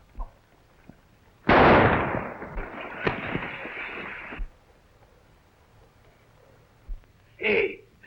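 Gunfire in a western film scene: a loud burst of shots crackles for about three seconds, a sharper crack rising partway through, then quiet with brief muffled voices and a short clatter near the end.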